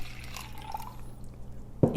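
Chlorine-indicating drops fall into tap water. Soft liquid trickles run under a low hum, followed by one louder drip or splash at the very end.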